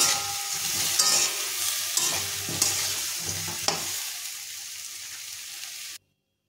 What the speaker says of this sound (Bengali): এর মধ্যে খেসার ডালগুলো দিয়ে দিলাম, এখন ভালো করে নাড়াচাড়া করে নেব